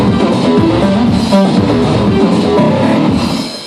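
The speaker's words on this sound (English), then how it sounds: "So I can put sidechain compression on just step number 1 and it will sound like this." A Roland TR-8 drum machine pattern plays with sidechain compression applied only on step one, giving a dense, continuous pumping groove of drums and tonal layers that stays loud and steady throughout, with no voices.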